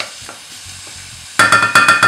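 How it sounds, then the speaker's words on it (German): Chopped onion sautés in a pan, quiet at first, then a loud sizzle with repeated stirring scrapes as it fries toward glassy. "Die Zwiebel ein bisschen dünsten, bis sie glasig ist, ein bisschen anrösten."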